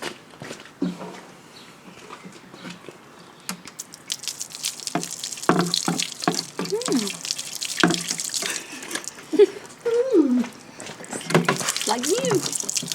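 Water splashes and runs steadily over a Plastidip-coated car as suds are rinsed off, a close hissing spray with drips and patters, while someone talks over it at intervals.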